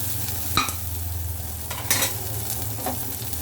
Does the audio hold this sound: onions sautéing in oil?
yes